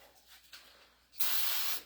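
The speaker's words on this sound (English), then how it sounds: "I didn't spray my shaft off." Close hiss of a sprayer aimed at the shaft of a mini excavator hydraulic cylinder, one steady burst of about half a second with a few fainter puffs just before it.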